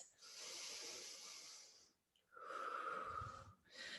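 Slow, deep breaths in a yoga backbend stretch: long airy inhales and exhales, faint and close, with a brief gap between them.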